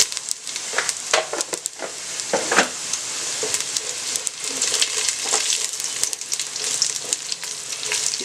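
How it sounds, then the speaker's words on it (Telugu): Chopped onions fry with a couple of spoonfuls of cumin seeds in hot oil, a steady loud sizzle with crackles and pops scattered across it. "ఇప్పుడు ఈ ఆనియన్స్ ఇవన్నీ వేగాయి"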